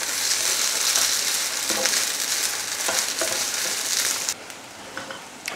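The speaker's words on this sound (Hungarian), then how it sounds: "Majd a felvert tojást ráöntjük a rizsre. És készre sütjük folyamatos keveréssel." Beaten egg poured over rice sizzles loudly in a hot pan while being stirred continuously, with scraping strokes through the steady frying hiss, which drops to a quieter sizzle near the end.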